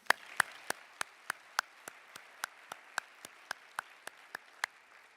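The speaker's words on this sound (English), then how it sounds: "please join me in a round of applause for Shannon and the extraordinary job she's" Applause from an audience at an honors and awards ceremony: sparse, evenly spaced claps ringing out one after another, fairly faint, with no talking.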